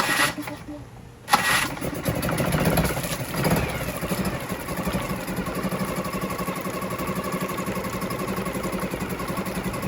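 A Suzuki 4hp outboard motor cranks and catches, then settles into a steady, continuous idle that runs loud and close to the end, with a brief louder burst just after it fires.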